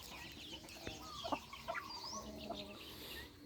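Chickens cluck in short, scattered calls over a steady farmyard background, a few louder clucks standing out close by.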